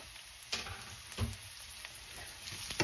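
Garlic frying in a pan for a simple home breakfast dish, a steady soft sizzle with a few louder stir bursts, heard close and alone.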